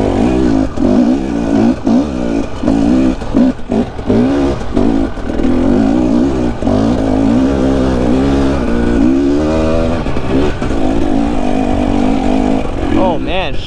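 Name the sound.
2020 KTM 300 XC-W TPI enduro motorcycle engine lugging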